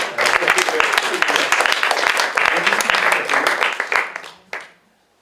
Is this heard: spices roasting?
no